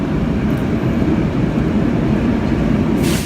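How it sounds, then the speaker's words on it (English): Tokyo Metro subway train running, a steady low rumbling roar of wheels and carriage noise throughout, fairly loud and close, with no voices. "We couldn't believe just how quiet the metro was."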